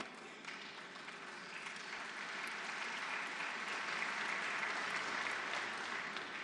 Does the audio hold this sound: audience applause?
yes